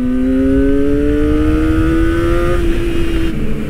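A Kawasaki Ninja ZX-25R SE with its 250cc four-cylinder engine revs high and climbs steadily in pitch, a loud, close, shrill howl that drops back near the end.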